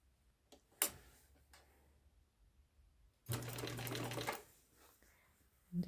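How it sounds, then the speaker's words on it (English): Sewing machine stitching a quilt block of fabric around a gentle curve, one steady low-pitched run of about a second after a few faint clicks, moderately loud and alone. "we're gently going to sew this around that gentle curve"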